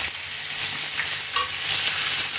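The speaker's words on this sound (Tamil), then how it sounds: "இந்த முருங்கைக்காய் இருக்கே அதை போட்டு அதில் ஒன்று வதக்கணும்." Drumstick pieces sautéing in sesame oil, a bright continuous sizzle with stirring scrapes close to the pan, no voices.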